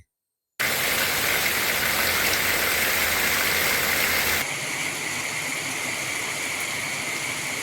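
Heavy rain falls in Mahuva, Gujarat, a loud, dense, unbroken hiss that starts suddenly and continues throughout, dropping slightly in level partway through.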